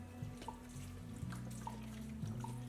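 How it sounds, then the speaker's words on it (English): Vegetable broth pours into a pot for cooking collard greens, a soft steady liquid trickle with a few faint drips over a low, continuous background hum. "take my vegetable broth and I'm going to just pour it in"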